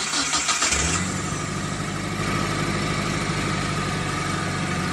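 A Mitsubishi T120SS MPI car engine cranks briefly and catches after a CKP sensor replacement, then settles into a loud, steady idle close to the microphone.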